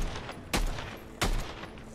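Monarch weapon fired from the hip in close quarters in Fortnite, two sharp loud shots about 0.7 seconds apart over a steady game background.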